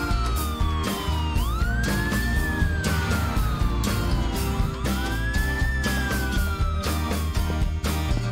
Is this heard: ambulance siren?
yes